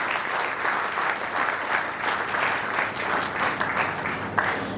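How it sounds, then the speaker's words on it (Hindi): A live audience at a real estate seminar claps loudly, a dense, continuous applause that stays steady and close for several seconds. "एक बार जोरदार ताली अपने आप को ही बजा दीजिए"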